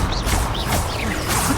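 The Expelliarmus spell is cast in the video game Hogwarts Legacy, a brief, dense swooshing magical blast with a sharp crackling impact that fills the short moment loudly.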